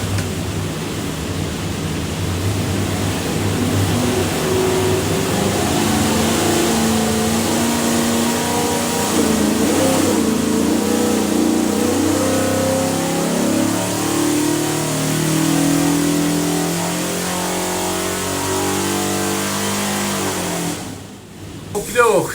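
A 302 cubic inch small block Ford V8, built for a Sunbeam Tiger, revs hard on an engine dyno, a loud sustained roar with shifting pitch throughout, cutting off abruptly near the end.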